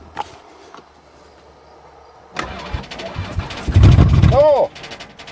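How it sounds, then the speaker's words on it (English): A van engine cranks through a failing starter, first a brief burst, then a longer loud grinding turn that rises and cuts off, close by with low background hum. "Before I get too settled, I'll see if it even cranks."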